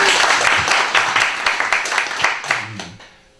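A church congregation breaks into applause, a dense wash of clapping that swells and holds for a few seconds, then fades out toward the end.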